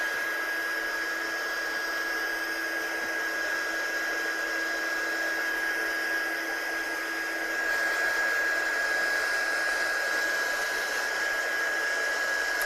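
A handheld heat or blow dryer runs continuously over inked die-cut card pieces, a steady close whine with an even airflow roar that grows slightly louder partway through.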